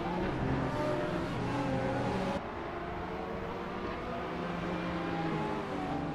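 Hypercars accelerate off the line at the race start on the Maple Valley circuit in Forza Motorsport 7, a steady, close engine roar that shifts abruptly partway through and continues alone.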